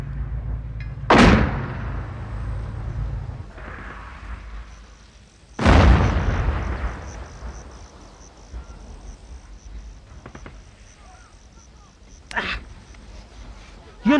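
Three heavy booms go off at intervals, each a sharp blast with a rumbling tail, while a low background hum continues in between.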